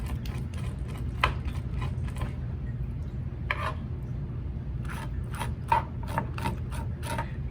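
Knife scraping scales off a bonefish (o'io), a series of close, rapid raspy strokes in short irregular bursts over a low steady background hum.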